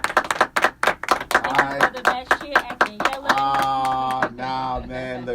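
Audience applause at a local politics talk show, a burst of rhythmic clapping that swells into sustained applause, with a voice speaking briefly at the start.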